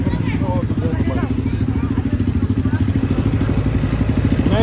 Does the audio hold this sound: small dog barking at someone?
no